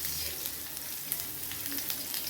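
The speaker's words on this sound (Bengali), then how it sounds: "দেখো এটা এখন ভাজা হবে" Potatoes, onions, green chilli and garlic fry together in a pan for a Bengali-style methi saag, giving a steady close hiss and crackle with no voices.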